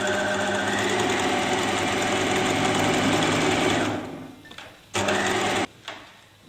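A sewing machine stitches a seam in a steady, loud whirring run for about four seconds, then stops, followed by a short second burst and a brief final spurt.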